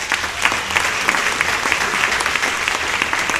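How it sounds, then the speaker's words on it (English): A crowd at a Morgan Hill community celebration claps warmly for the event organizer, a steady, dense wash of applause from start to finish. "let's give her applause"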